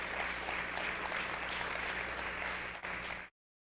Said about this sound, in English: Clap for that, guys.